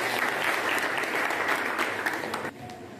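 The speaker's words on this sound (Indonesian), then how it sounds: "Beri tepuk tangan." Classroom applause from a group of participants, a dense steady clapping that carries through most of the moment and then thins out abruptly near the end.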